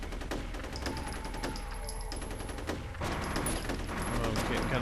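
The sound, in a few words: gunshots in the video game F.E.A.R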